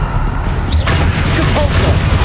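Spell blasts from the video game Hogwarts Legacy, Confringo and Bombarda, land as booming impacts with crashing bursts over a dense, continuous low rumble of game battle noise, packed closely together throughout.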